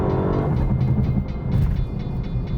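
A Lexus LC500 coupe accelerates, its engine a steady low growl with faint rising tones and brief shifts in pitch, moderately loud and continuous, no voices over it.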